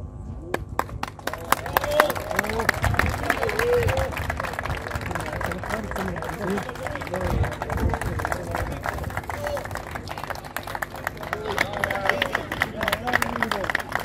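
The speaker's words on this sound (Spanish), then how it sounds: "Un gran aplauso a Domingo Valdés" A crowd at a sports club event claps, a busy mix of hands close by with chatter and voices running under and over the clapping throughout.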